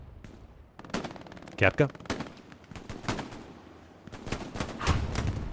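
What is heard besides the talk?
MG42 machine gun firing in video game Hell Let Loose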